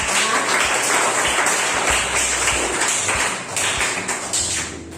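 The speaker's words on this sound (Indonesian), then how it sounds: "Berikan tepuk tangan untuk Irfan Aziz" A classroom group claps for a student presenter who has just shown the group's work, a dense spread of hand claps lasting a few seconds with some ticking taps mixed in.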